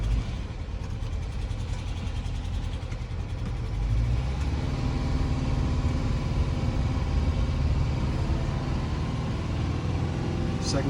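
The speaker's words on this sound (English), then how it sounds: "We'll just give it first gear." A 1974 Volkswagen Westfalia, revived after sitting parked for 20 years, driving off in first gear with a steady droning engine that swells louder partway through, a person talking briefly over it.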